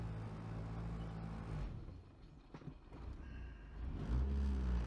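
A turbocharged K24-swapped Honda Civic with a twin-disc clutch idles unevenly, its low engine rumble wavering and surging, heard fairly faintly with no talk.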